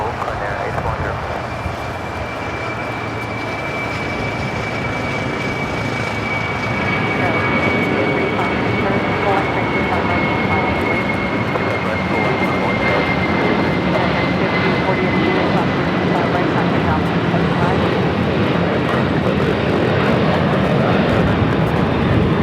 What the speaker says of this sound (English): This is Coletta Air 686 taking off to Cincinnati on the 747-400 converted freighter.